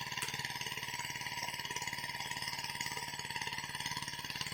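A plowing machine's engine runs steadily, with a fast, even mechanical thumping and a droning hum that holds at a constant pace throughout.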